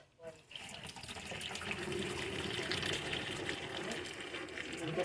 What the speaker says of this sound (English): We're going to drain our potatoes.